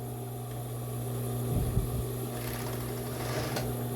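A sewing machine stitches the seams of a cropped bra, a steady tonal motor hum with bursts of faster needle chatter, close and moderately quiet, with no voices.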